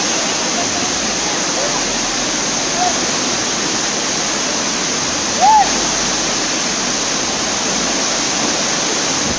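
Godachinamalaki waterfall in Hukkeri taluk, Belagavi district, Karnataka, gushing during heavy monsoon rain, with a steady, loud, broadband roar of falling water throughout and no voices.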